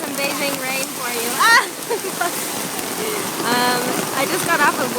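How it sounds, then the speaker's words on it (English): Steady rain falling in Beijing, a constant wash of patter and splashing close by, with voices and chirpy sounds over it at moments. "Beijing Rain for you."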